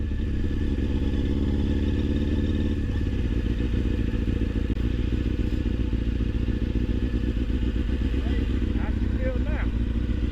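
A motorcycle engine runs loudly and close after being shifted into first gear, a steady throbbing idle with clattering, while people talk over it.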